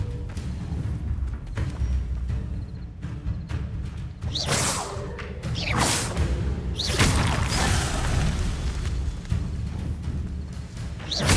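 Magical spell effects in the Hogwarts Legacy video game sound as a series of loud swooshing bursts and thumps rising over a low rumbling game ambience, several sweeping whooshes following one another.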